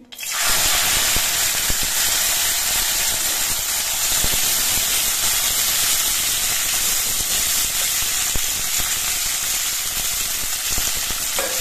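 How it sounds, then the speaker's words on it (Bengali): Malabar spinach seeds hit hot mustard oil with a sudden loud sizzle that settles into a steady, close, crackling hiss of frying for the rest of the clip. "সর্ষের তেলটা বেশ ভালো মতো গরম হয়ে গেছে। এবার পুঁইয়ের বীজগুলো আমি দিয়ে দিচ্ছি।"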